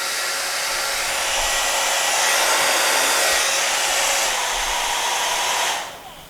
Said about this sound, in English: Now just for fun, let's go high heat, high fan.